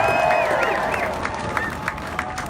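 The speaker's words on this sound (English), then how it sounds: "Can we give them all a round of applause?" An outdoor rally crowd claps and cheers for a choir and the Our Lady of Lourdes worship team, loud at first and then thinning into scattered claps, with whoops and voices mixed in.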